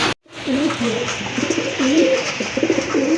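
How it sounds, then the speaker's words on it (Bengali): A pair of fancy pigeons at a sale gives repeated soft, throaty coos close by, rising and falling in a steady rhythm over faint background hum after a brief silent gap at the start. "খুবই সুন্দর এক জোড়া কবুতর"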